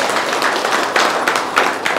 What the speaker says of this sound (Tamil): இதுக்கு ஒரு பெரிய கைத்தட்டல்.